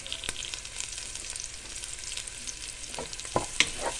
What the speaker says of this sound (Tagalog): unahin ko yung sibuyas bago ang bawang